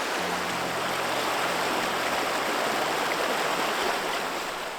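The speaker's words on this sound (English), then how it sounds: "I really like the way that this water is flowing away from me." Stream water flows steadily in an outdoor setting, a constant broadband rush that stays even and close throughout, with no voices.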